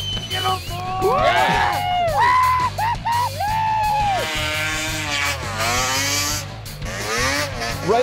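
Crowd at a Jackson Hole snowmobile hill event yells and whoops over rumbling engine noise, with loud voices rising and falling close by throughout.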